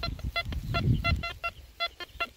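Metal detector signal tone over a find dug in the ground, a run of short, repeated electronic beeps with a clear, steady pitch, each one brief and separated by small gaps, sounding close and alone with no talk.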